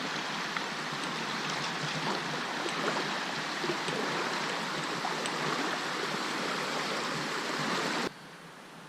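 A steady, broadband rush of stream water flows at a river crossing on the North River Gorge hiking trail, constant and close, with no voices.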